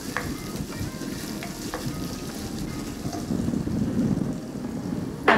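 Garlic and ginger fry steadily in a hot pan, a continuous crackling sizzle with a few sharper pops and a clatter of stirring at the end, close and with no talk.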